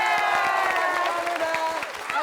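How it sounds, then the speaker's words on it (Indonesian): A TV studio audience on an Indonesian comedy show claps steadily throughout, the applause mixed with some cheering and laid under upbeat music with sustained tones. "Kita tepuk tangan."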